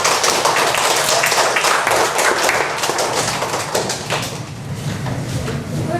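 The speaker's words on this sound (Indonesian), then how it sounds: "tepuk tangan untuk Mas Miftah" Classmates clap for a pupil in a primary classroom lesson, a brisk, close burst of many small hands at fairly loud level, thinning out after a few seconds with some background chatter.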